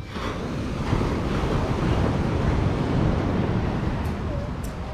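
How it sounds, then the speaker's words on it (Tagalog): Big ocean waves at sea, a continuous heavy wash of surf roaring broadly under gusting wind noise on the microphone, steady and loud throughout with no speech. "Pagka ganyang malalaki ang alon"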